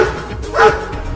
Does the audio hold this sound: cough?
no